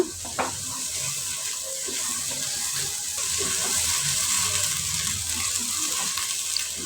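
A blended paste of onion and green chili fries in a pan for chicken biryani, giving a steady, close, hissing sizzle with faint stirring scrapes throughout.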